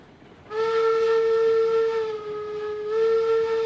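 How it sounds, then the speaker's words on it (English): A steam locomotive whistle in the Railroads Online video game blows a long, steady, loud tone for several seconds, dipping briefly in the middle, over a low background rumble. "Yeah, the whistles sound good, too."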